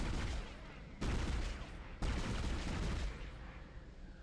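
Sustained heavy gunfire in the Dead Space game as the Leviathan boss is shot, a dense roaring barrage with two sharp renewed bursts about a second apart before it tails off.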